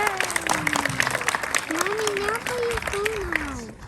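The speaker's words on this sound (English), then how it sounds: "That deserves a round of applause." Crowd applause at the Historic Cushman Street Fair in Tacoma: a steady wash of many hands clapping for several seconds, with a voice speaking over it.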